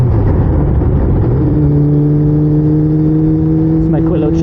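A motorcycle engine climbs in pitch as it accelerates to overtake on a road ride at golden hour, a close, loud rising drone under steady wind rush with a voice speaking over it.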